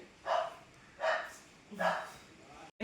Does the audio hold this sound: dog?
yes